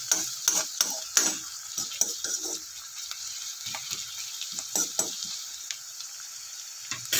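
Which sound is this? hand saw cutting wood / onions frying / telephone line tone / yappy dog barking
onions frying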